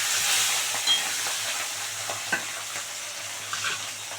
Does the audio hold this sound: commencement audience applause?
no